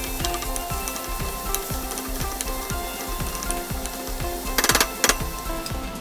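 Onions, ginger and garlic sizzling in a pan as the base for a Mauritian sea bream and aubergine fish curry, a steady close frying hiss with a few brief sharper clatters of stirring.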